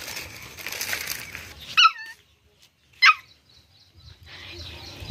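Two short, high whimpering yelps from a dog, well separated, after a stretch of faint background talk and noise.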